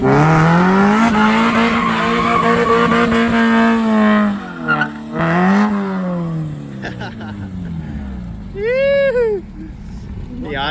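Supercharged Saleen car doing a one-wheel peel: a loud, sustained engine roar with rising and falling pitch and tire squeal, ending in a sharp squeal burst; speech-like voices run underneath.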